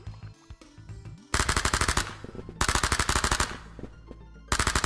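Video game gunfire from a US weapon in a game under development: rapid automatic bursts in three loud, clipped volleys, preceded by softer mechanical clicks and handling sounds.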